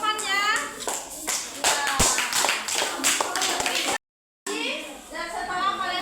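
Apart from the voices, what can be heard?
applause, classroom clapping for a classmate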